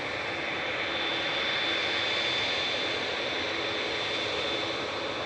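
A Qatar Airways Boeing 787-9 jet airliner, registration A7BHD, departs Manchester Airport for Doha, its engines making a steady, loud, broadband roar throughout with no talking.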